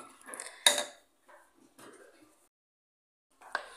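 Broccoli stalks, peeled, drop into a pan of tomato sauce, making a sharp clink of utensil on cookware followed by a few soft, scattered knocks and scrapes with quiet gaps between.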